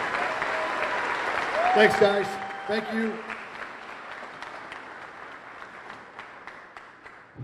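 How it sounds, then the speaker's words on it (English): Audience applause at a radio station's 100th anniversary celebration, a moderate rolling clap that swells then tapers off, with someone speaking briefly over it. "One more round of applause, and you guys can go sit down."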